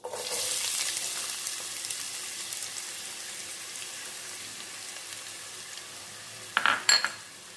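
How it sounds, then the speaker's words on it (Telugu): Sliced large onions sizzle in hot oil for a chicken and chana dal curry, a loud broad hiss at first that slowly fades, then a couple of sharp scraping clatters near the end; no talking. "ఇప్పుడు నూనె బాగా వేడెక్కింది కదండి, ఇందులో పెద్దుల్లిపాయ ముక్కలు వేసేసుకుందాం"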